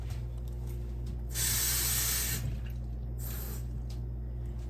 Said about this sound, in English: So now I got to fill this up with water.